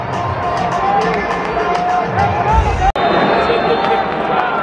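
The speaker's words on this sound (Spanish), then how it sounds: "segundo tiempo hay abucheos" Stadium crowd at a football match between América and Pachuca, booing the team as the second half restarts; a dense, loud wash of crowd noise runs throughout, with a brief drop near the middle.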